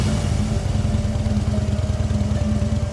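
A bike ridden off at midnight by two thieves stealing it, its engine running at a steady, close, fairly loud idle-like throb with no voices over it.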